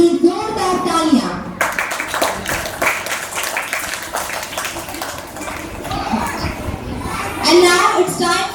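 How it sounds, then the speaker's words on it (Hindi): An audience at a school Independence Day celebration applauds the performers, with steady clapping from the crowd, brief children's voices at the start and a host speaking over the close of the applause. "वंस अगेन हमारे सभी परफॉर्मर्स के लिए जोरदार तालियां"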